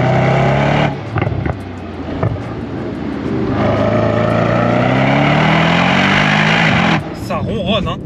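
Mercedes-AMG GT Brabus 800 engine rumbling steadily while driving, loud and continuous with rising and falling revs, with someone talking over it.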